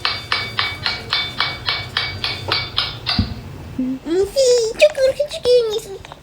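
A hammer strikes the wheels of a toy skateboard in about ten sharp, evenly spaced clanks, then someone talks loudly and excitedly afterward.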